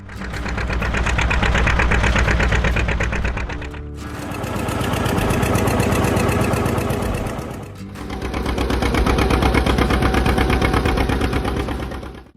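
John Deere 70 tractor engine running with a loud, rapid, rhythmic putt-putt knock in three sustained stretches split by short dips, close and alone.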